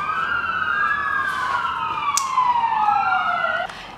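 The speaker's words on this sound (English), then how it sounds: "Sorry that there was siren happening." An emergency vehicle siren wails past, its rising and falling tone loud and steady before dropping away abruptly near the end, with no talking over it.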